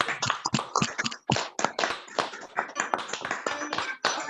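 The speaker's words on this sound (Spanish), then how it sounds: "Vamos a darle un aplauso" Scattered, uneven claps and taps with gaps between them, sounding like a small group giving brief applause nearby.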